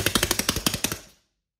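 A 3D-printed 180cc engine running in rapid, evenly spaced loud firing pulses, close by, then cutting out and falling silent after about a second.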